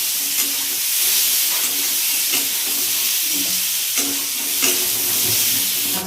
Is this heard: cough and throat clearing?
no